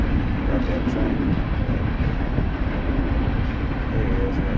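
A train passes close by as a steady, loud low rumble that fills the whole stretch, with faint voices underneath.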